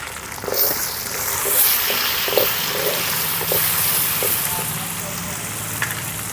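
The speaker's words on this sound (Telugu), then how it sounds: "పచ్చివాసన పోయేలాగా ఒక నిమిషం పాటు ఫ్రై చేసుకున్నాం" Ginger-garlic paste and turmeric frying in a pan for a chicken curry, with a steady close sizzle that swells and eases as the mixture is stirred, and no talking.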